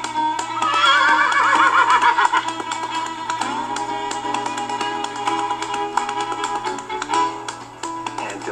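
Horses at the Shiloh Horse Rescue sanctuary in Sandy Valley, with a loud whinny early on, then steady neighing and light hoof taps close by in an outdoor setting.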